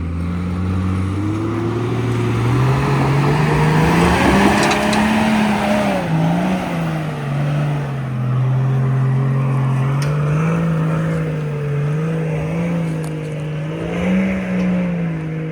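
Holden Adventra SUV crawling forward on an off-road track, its engine droning steadily close by with rising and falling revs throughout, loud and continuous with no talk.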